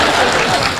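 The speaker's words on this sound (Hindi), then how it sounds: "समापन पर तालियां बजा देना" A short burst of dense audience applause at the close of a Hindi mushaira poetry recitation, loud and close, lasting under a second.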